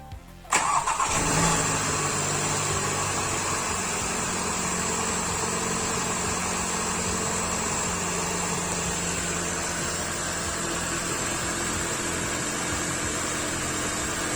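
A Volkswagen Golf GTI TCR engine cranks and fires after an oil change, catching with a short burst, then settling into a smooth, steady idle that stays close and even with no talk.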